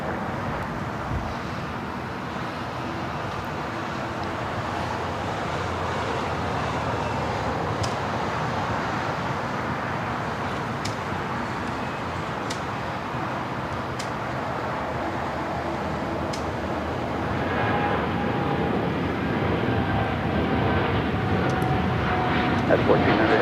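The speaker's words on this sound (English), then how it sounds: "United Airlines Flight 1400 heading to Chicago O'Hare, 787-9 Dreamliner" United Airlines 787-9 Dreamliner bound for Chicago O'Hare rolling for takeoff on LAX runway 25 right, a steady broadband jet roar with wind buffeting that swells slightly toward the end, mixed with faint radio talk.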